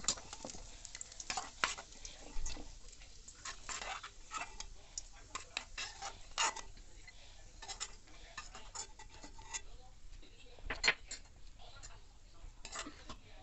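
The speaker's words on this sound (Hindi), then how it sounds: "फ्रेंड्स ड्राई फ्रूट को थोड़ा रोस्ट कर लेंगे।" Dry fruits roasting in a kadhai, with faint irregular clicks and scrapes of stirring and a light crackle, quiet and close, with no one talking.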